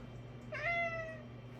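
A single cat meow, drawn out and rising then falling, fairly close and clear over a steady low background hum.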